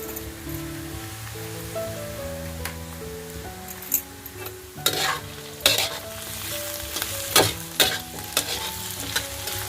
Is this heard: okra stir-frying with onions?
yes